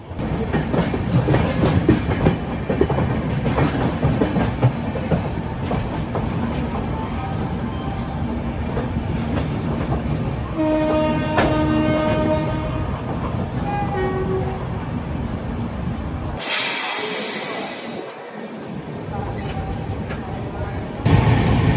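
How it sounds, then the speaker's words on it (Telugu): A moving passenger train leaving Vijayawada, loud steady rumble and clatter of the carriages with a long sustained horn blast partway through and a brief sharper rushing burst near the end; a voice speaks at times. "విజయవాడలో బయలుదేరిపోయింది కదా మన ట్రైన్"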